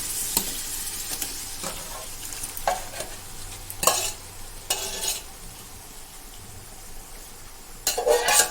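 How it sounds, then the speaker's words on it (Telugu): Chicken pieces, about 3 kg, going into a large pot for home-style chicken dum biryani, with bursts of sizzling and clanking pot sounds as they are stirred, loud clustered hits separated by quieter frying. "తెచ్చుకున్న చికెన్ 3 కేజీలు ఎత్తి ఆ డేక్షాలు వేయాలి."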